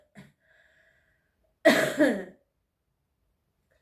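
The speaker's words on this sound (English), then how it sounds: "I can't get out because I'm coughing" A single close, loud throat-clearing cough in two quick bursts, surrounded by near silence and faint breaths.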